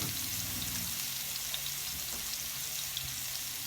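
Sliced onions and mushrooms sizzle and crackle steadily in a hot pan, a dense continuous frying hiss with scattered pops and no talking.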